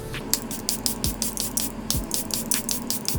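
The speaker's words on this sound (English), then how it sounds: "I'm going to use this Airbrush Flawless Setting Spray from Charlotte Tilbury to set all over my face" Charlotte Tilbury Airbrush Flawless setting spray misted onto a face in a series of quick, rhythmic hissing pumps, about a dozen short bursts close to the microphone, fairly faint.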